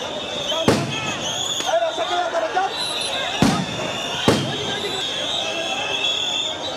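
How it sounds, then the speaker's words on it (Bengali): Sharp blasts from police sound grenades fired to disperse protesting teachers at Shahbag, Dhaka, three loud bangs standing out over a steady crowd roar and chatter. "মুহুর্মুহু সাউন্ড গ্রেনেড আর জলকামান দিয়ে শিক্ষকদের শাহবাগ থেকে সরিয়ে দেওয়ার চেষ্টা পুলিশের।"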